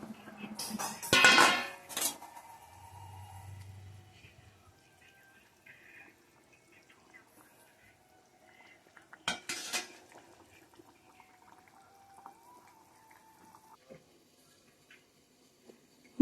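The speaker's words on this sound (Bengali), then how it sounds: "এবার মাছগুলো দিয়ে দেবো।" Fish going into a pan and being stirred with metal utensils: a loud clatter of pots and cutlery in the first two seconds, a second burst of clinks around nine seconds, then quiet with faint scattered taps.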